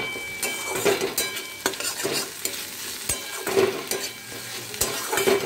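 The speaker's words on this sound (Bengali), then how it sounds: "পেঁয়াজগুলো ভালো মতো ভাজা ভাজা করে নিতে হবে" Onions sizzle in a pan with ginger-garlic paste while a spoon stirs and scrapes in repeated strokes, clinking now and then against the metal over a steady frying hiss, with no talking.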